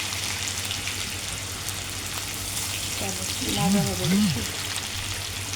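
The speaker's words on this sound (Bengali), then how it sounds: "প্রথমে আমি পেঁয়াজ কুচি দিয়ে দিচ্ছি" Chopped onions fry in hot oil with a steady, close sizzle while a voice speaks briefly over the cooking.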